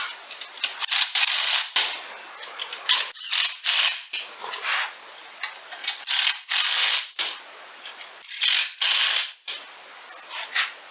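A ratchet spins in repeated quick bursts, tightening new bolts on an Alba Intimidator front bumper for a Yamaha YFZ450R ATV; the close, loud clicking runs in short runs with brief pauses between them.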